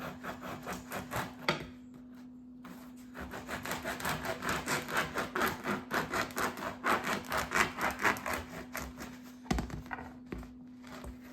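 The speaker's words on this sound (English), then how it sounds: "So now that we finished cutting our bread" Knife sawing through a loaf of bread, a steady run of close rhythmic rasping strokes with a brief pause early and a couple of dull knocks near the end, over a constant low hum.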